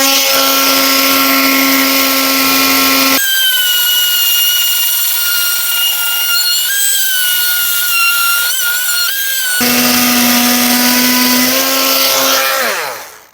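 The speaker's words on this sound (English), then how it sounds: "the multi-tool actually cut through fairly well, and as long as you keep your multi-tool in the groove, it's fairly easy to keep it in line" An oscillating multi-tool fitted with a wood-and-metal blade cuts through beadboard, giving a loud, steady high-pitched buzz with a strong whine. The tone changes briefly in the middle as the blade loads up, then the cut resumes and winds down.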